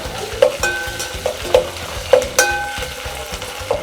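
Ginger garlic paste fries in a pan with a steady close sizzle, broken by regular scraping stirs and metallic clinks of a spoon against the pan.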